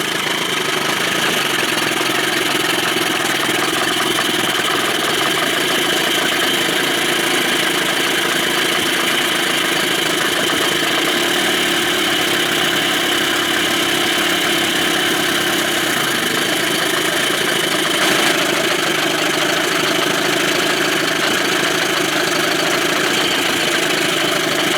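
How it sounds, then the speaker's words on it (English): A 2000 Johnson 25 hp outboard motor idles in forward gear on a 13-foot Whaler, giving a steady, loud, unbroken mechanical drone with a slight rattle that holds the same level for the whole stretch. "Get it out there and put it in forward and idle it along,"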